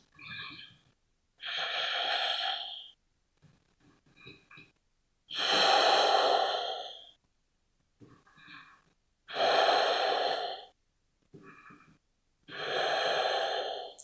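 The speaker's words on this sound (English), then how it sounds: "Big breath. Big exhale." Deep, slow yoga breaths, long audible inhales and exhales alternating with quiet pauses, close and unhurried, about four full breath cycles.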